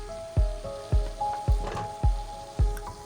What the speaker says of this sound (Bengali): কিছু সময় কষানোর পরে আমি কাঁচামরিচ এবং টমেটো কুচিগুলো মশলার ভিতরে অ্যাড